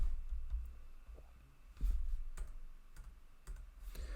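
Code is typed on a computer keyboard in quiet, faint isolated key clicks that arrive roughly every half second over a low background hum.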